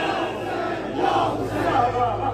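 A crowd at a religious gathering in a village near Islamabad roars back in unison to chanted slogans, a dense, loud burst of many voices rising and swelling over about two seconds.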